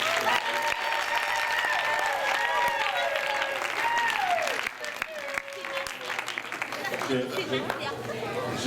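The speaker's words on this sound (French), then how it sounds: "est-ce qu'on peut applaudir pour les..." A congregation at a wedding ceremony applauds steadily throughout, with chatter and a few voices rising over the clapping while music-like tones carry beneath.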